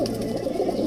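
Pigeons coo steadily in a village on the India–Pakistan border zero line, a low continuous murmur of soft calls that fills the clip at moderate loudness with no talk.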